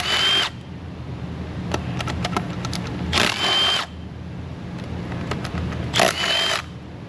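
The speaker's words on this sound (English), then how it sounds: "we've got the inverted Torx socket here. It's a little star shape. So we'll pull these guys out." A power tool with an inverted Torx socket spins out engine fasteners in three separate loud whirring bursts, each about half a second long, with faint clicks and rattles between them and no talk.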